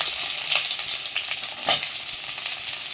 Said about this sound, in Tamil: இப்போ நம்ம நறுக்கி வச்ச வெங்காயத்தை போட்டுக்கலாம்.